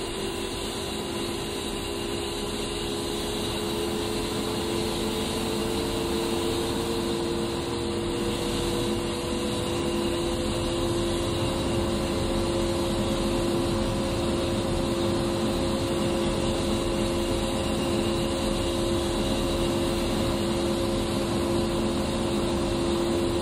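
Left jet engine idling after start-up in the DCS flight simulator, heard as a continuous loud turbine whine and rushing roar with a steady high tone that holds throughout, with no talk.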